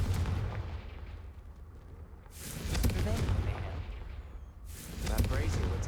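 A Confringo fire spell cast in Hogwarts Legacy, heard as loud blasting bursts that swell and fall twice over a steady low rumble, like cannon-like explosions with crackling tails.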